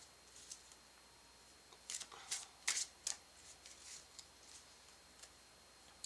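Tarot cards shuffled by hand in a quiet room: soft riffling bursts cluster in the middle, with scattered light ticks and flicks before and after. No one speaks.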